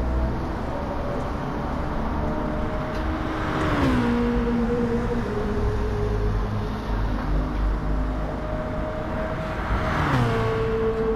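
Racing V8 of a BMW M3 GT, the 4.0-litre 32-valve S65, in the GT Sport video game on the Nürburgring Nordschleife, holds a steady loud drone with two sharp gear-change dips and rising revs, heard alone without talk.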